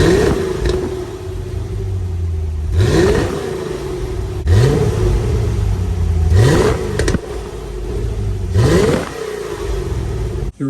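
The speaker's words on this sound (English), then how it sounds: "let's get some baseline exhaust sounds" A 1989 Chevrolet Corvette C4 with stock exhaust, before a muffler delete, revs up repeatedly from a steady idle, four or five sharp rising blips falling back each time, loud and close.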